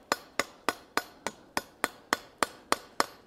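Hammer blows peening a rivet head on forged blacksmith tongs made from precut RX 01 blanks, eleven sharp metallic strikes in an even, steady rhythm, close and ringing, with no talk.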